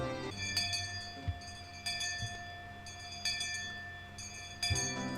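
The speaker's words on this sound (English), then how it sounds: "the sound of the principal waving a handbell drifted through the classroom" A school handbell swung by a principal as a lunchtime signal rings in repeated bright metallic bursts about every second and a half, moderately loud over a steady tonal background hum.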